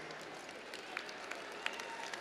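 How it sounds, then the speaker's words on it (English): A commencement audience at Southern University applauds its deans, a dense, steady wash of many hands clapping that fills the space evenly and carries on without a break for a couple of seconds. "Give your deans a round of applause"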